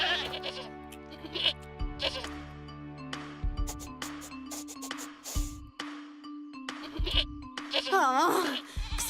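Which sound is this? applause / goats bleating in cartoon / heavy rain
goats bleating in cartoon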